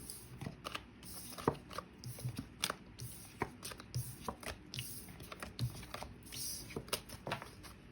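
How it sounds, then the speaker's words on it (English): Tarot cards are shuffled by hand in a quick irregular series of close riffling slaps and flicks, with no one talking. "And while I am shuffling these"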